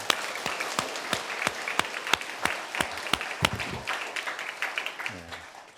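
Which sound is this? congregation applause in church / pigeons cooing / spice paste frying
congregation applause in church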